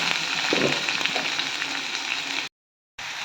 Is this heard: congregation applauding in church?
no